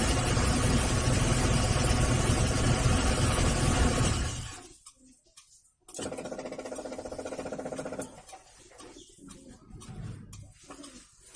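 Fuel pump on a Suzuki Espass (Zebra) with EFI runs for a couple of seconds with a steady electric hum, then cuts off, after loud broadband noise at the start gives way to near silence.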